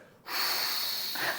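A voice makes a steady breathy hiss, imitating a dental handpiece blowing air without spinning, preceded by a short quiet pause.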